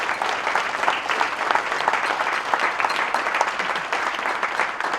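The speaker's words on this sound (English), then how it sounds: "Caitlin, please give her a round of applause" An awards-ceremony audience claps for Caitlin Sabay at a junior golf tour event, steady dense applause holding at an even level throughout, with no talk over it.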